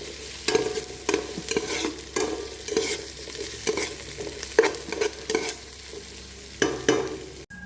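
Garlic frying in a pan on a stovetop turned up too high, with sizzling under repeated scraping stirs from a utensil in an uneven rhythm, close and steady throughout.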